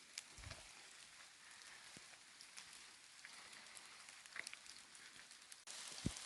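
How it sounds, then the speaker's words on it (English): Rain falls in the cloud forest at San Gerardo de Dota, Costa Rica, a faint, steady hiss of drops with a few closer patters and taps, and no voices. "we're here in San Gerardo de Dota, and it's currently raining."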